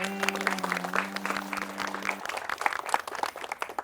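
Applause for an MLA visiting a housing society, a fairly dense patter of many hands clapping under a steady tonal hum, with a voice briefly audible near the start.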